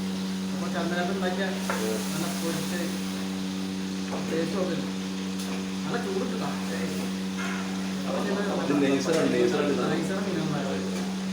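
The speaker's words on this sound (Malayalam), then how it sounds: "പച്ചമുളകാണ് പൊരിക്കുന്നത്" Green chillies frying in hot oil, a steady sizzle with stirring scrapes beneath a constant hum, while people talk over it throughout.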